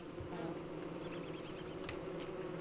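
A steady insect drone from bees in Don't Starve hums on without pause, with brief higher chirps and clicks from the game layered on top.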